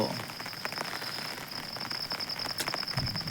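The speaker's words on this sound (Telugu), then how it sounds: "వర్షాలు మొత్తం పెరుగుతాయి కానీ ఇంకా తగ్గవు" Steady heavy rain falls close by, a dense continuous hiss of drops beating on a surface with a few louder spatters, and no voices.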